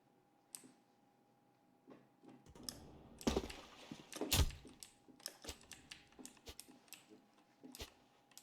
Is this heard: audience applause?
no